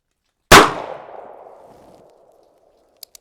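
A single loud, sharp shot from an 1858 Pietta Remington Navy revolver fitted with a Howell .38 Special conversion cylinder, ringing out in a long fading decay, followed by a couple of faint clicks.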